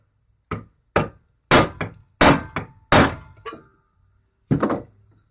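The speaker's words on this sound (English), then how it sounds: "I got a big spike and a nice sizable hammer, and we're just going to punch a hole in the center of it" A large hammer drives a big metal spike through a bird feeder to punch a hole, giving a series of sharp, loud struck blows with brief rebounds, irregularly spaced, then a pause and a final hit.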